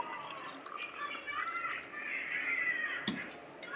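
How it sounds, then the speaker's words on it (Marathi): Water is poured into a sattu drink mixture, a soft continuous trickling pour with a brief clink near the end. "उरलेलं सगळं पाणी घालायचं आहे यामध्ये"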